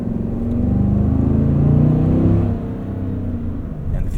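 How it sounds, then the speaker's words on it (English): A 2025 Cadillac Escalade Platinum 4WD's V8 engine revs while driving at night, a loud, steady low rumble that rises then eases off, heard from inside the cabin. "the V8 does make a good noise"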